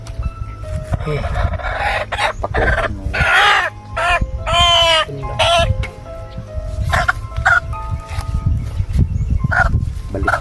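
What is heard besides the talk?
chickens clucking and rooster crowing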